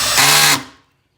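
A drill drives a screw into a 2x4 bench in one short, loud whirring burst that stops abruptly and fades out within a second.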